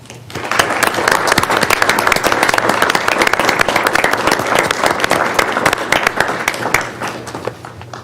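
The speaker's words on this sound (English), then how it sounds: "will you join me in a round of applause to honor them?" A room of people at a county commissioners' business meeting applauds standing sworn law enforcement personnel, sustained loud crowd clapping that swells quickly, holds for several seconds, then tapers.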